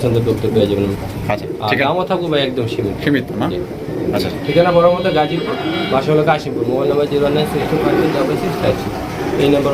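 Pigeons coo over and over in a busy pigeon market, their throaty calls overlapping beneath close, continuous talking.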